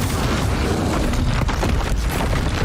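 A fiery Incendio spell blast from Hogwarts Legacy erupts as a dense, roaring burst of flame, loud and sustained across the moment with a heavy low rumble and crackling texture, up close.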